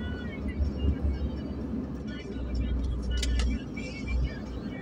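Steady road traffic rumbles low and continuous, cars and engines droning nearby with a couple of brief brighter swells, while a person talks over it.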